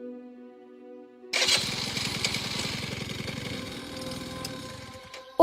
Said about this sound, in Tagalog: Nagmistulang magloko ang makina ng motor ni Randy.